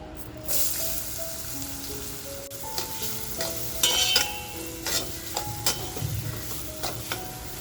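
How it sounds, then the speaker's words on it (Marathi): Finely chopped onion sizzles and crackles in oil left over from frying eggs for kharda anda masala, with a steady hiss and scattered clinks and scrapes of a spoon stirring the pan, close and moderately loud, no voices. "अंडी फ्राय करून जे तेल उरले त्याच्यामध्येच आता जो आपण बारीक करून घेतलेला कांदा आहे तो टाकून घेऊया"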